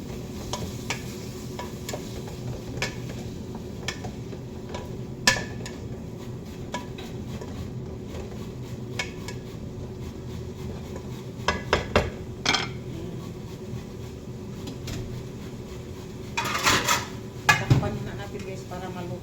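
Marinated chicken, seasoned with salt and pepper, is stirred in a pan over a low sizzle, with repeated metal scrapes and clinks of a spatula on cookware, louder in bursts near the end.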